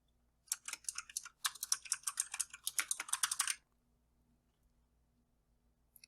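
Typing on a computer keyboard to enter a wireless network name, a quick run of close, crisp key clicks lasting about three seconds with a short pause partway, then near silence apart from one faint final tap.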